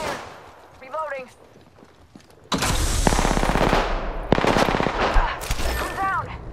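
Sustained machine-gun bursts in Apex Legends erupt loudly and close, rattling rapidly for several seconds with a brief pause, under game voice callouts.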